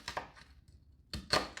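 Knife cutting through a halved onion on a cutting board, a couple of crisp chopping thunks near the start and two louder board strikes toward the end, close and alone with no talk.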